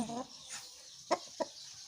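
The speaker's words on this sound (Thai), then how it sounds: "อันนี้จะเป็นไก่พม่านะคะ" A young Burmese-bred rooster gives a few faint, short clucks, two brief sharp calls close together against a quiet background, with someone speaking softly at the start.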